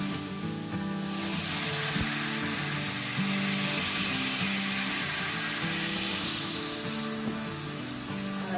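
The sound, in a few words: white cooking wine sizzling as it deglazes a hot skillet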